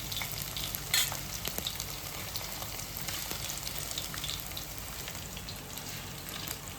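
Onions sizzle in hot oil for a Telugu bitter gourd curry, a continuous moderate crackling frying hiss with occasional sharper pops, no voice.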